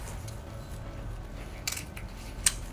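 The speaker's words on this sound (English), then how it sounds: "I'm just going to snip this off" Scissors snip off a piece of pine while a holiday swag with poinsettias is being made, giving two or three quick, faint, crisp cuts close by over a quiet background.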